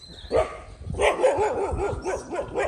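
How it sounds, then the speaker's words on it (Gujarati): Dogs bark and yip in quick, overlapping bursts, fairly close, with a whiny edge to some calls. "જો જો કૂતરા ભહે"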